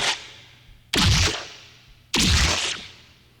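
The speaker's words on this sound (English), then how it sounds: "we've got just some impacts that I've taken from one of the boom libraries and processed" Processed impacts drawn from a commercial sound effects library, treated with heavy compression, filtering, EQ and reverb: two loud, bright, sweeping hits about a second apart, each with a sharp attack and a long whooshing tail, over a faint low hum.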